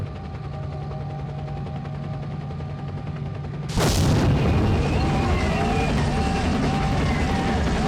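One sharp, loud rifle shot in the video game S.T.A.L.K.E.R. Lost Soul cuts through steady background noise and leaves a lingering rumble afterward.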